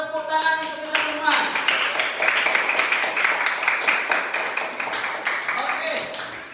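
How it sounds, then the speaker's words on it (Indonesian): Children clapping together in a classroom lesson, a brisk burst of many hands that starts after a brief voice and continues steadily at moderate loudness for several seconds. "Sekarang tepuk tangan untuk kita semua."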